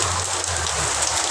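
Heavy monsoon rain pours steadily in Guduvanchery, a dense continuous hiss of drops striking surfaces close by, with a low engine-like drone underneath and no voices.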